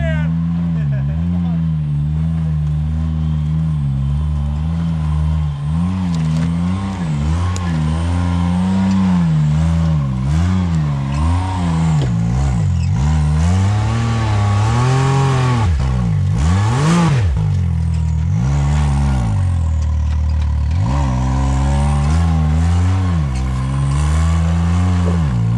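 A Can-Am UTV engine revs hard while driving off-road through deep water, hill climbs and rocks, its pitch swinging up and down repeatedly in loud, sustained bursts with people talking over it.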